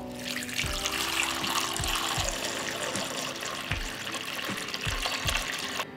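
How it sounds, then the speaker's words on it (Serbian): Water runs steadily from a tap into a large cooking pot that holds a cloth and glass jars on its bottom, a continuous splashing fill with soft knocks and clinks along the way and no talk. "Napunila sam šerpu sa vodom"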